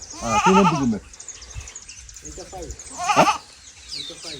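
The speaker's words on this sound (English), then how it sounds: "These are goats." Several farm goats in Katosi, Uganda bleat loudly at close range, a long wavering call followed by a shorter one, with people talking between and around the calls.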